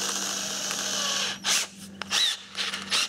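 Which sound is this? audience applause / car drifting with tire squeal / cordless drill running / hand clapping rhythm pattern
cordless drill running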